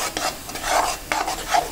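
Puffed rice (pori) with sesame and jaggery is stirred in a pan, giving soft, uneven scraping and rustling strokes that are close and fairly quiet.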